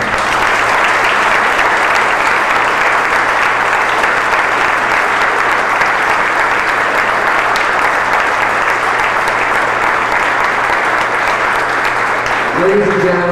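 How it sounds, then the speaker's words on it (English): Sustained, loud audience applause fills a hall during a media hall of fame induction ceremony, steady clapping from a large crowd that holds for many seconds before tapering at the end. "Please join me in applauding the life of Iris Chang."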